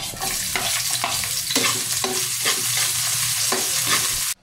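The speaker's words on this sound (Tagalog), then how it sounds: "Unahin lang natin na igisa itong luya. Lutuin lang natin to hanggang sa lumabas yung aroma niya at isunod naman natin itong sibuyas at bawang." Ginger, onion and garlic sautéing in a hot frying pan, a steady loud sizzle broken by repeated scraping stirs of the spatula, then the frying cuts off abruptly at the end.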